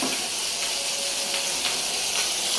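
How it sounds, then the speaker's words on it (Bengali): Fish frying in an oil-filled pan in a home kitchen, a continuous bright sizzle and hiss holding steady throughout, close and fairly loud with no pauses. "আর মাছ ভাজি হইতেছে"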